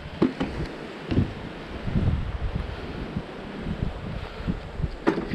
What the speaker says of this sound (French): Il y a vraiment un sale vent.